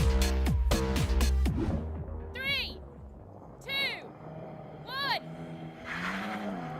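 A BMW M3 Touring revs hard at the start of a race against an Audi RS4, loud and close, with a sustained engine drone followed by three sharp tire chirps as it launches.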